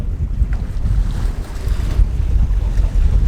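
Strong wind and choppy sea slap around a fishing boat in the Hauraki Gulf, with gusty microphone rumble over uneven wave splashes, loud and constant with no talk.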